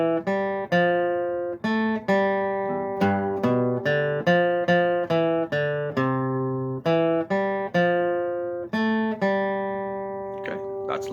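Single plucked guitar notes pick out the La Bamba riff, a lively repeating melodic pattern of clear, separate notes played at a moderate, even pace with nobody talking.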